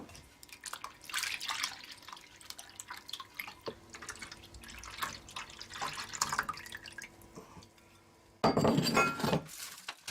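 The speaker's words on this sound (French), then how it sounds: "elle l'arrose d'un mélange de lait et de lait de coco" A mix of milk and coconut milk is poured over freshly cooked rice for rice pudding, with soft splashing and dripping, light clinks of glass, and a louder burst of pouring near the end.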